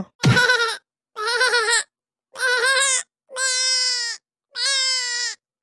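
A cartoon character turned into a goat bleats five times in loud, separate bursts with short pauses between them, and nobody speaks over the cries.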